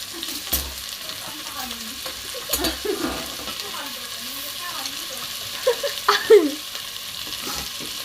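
Tomatoes stir-fried in a pan, a utensil scraping and clattering in scattered bursts over a soft, steady sizzle, close and moderate in loudness, with a faint voice in the background.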